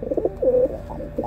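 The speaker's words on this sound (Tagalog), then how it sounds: "Napakagandang kalapati ito mga kalapatid" A pigeon resting aboard a ship gives a few soft, close coos in a short rhythmic series, with one longer drawn-out note in the middle and no talking.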